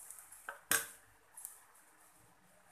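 Two raw eggs are cracked into a pan, heard as a sharp clink and a softer tap, close and quiet in an otherwise still kitchen.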